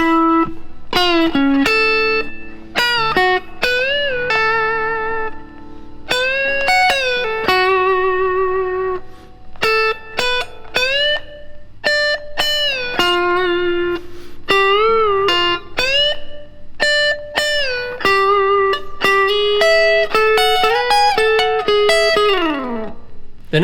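Electric guitar picks out a solo at a slow tempo, a string of bent and sustained single notes and double stops with effects-unit tone, played alone without talking, steady and close.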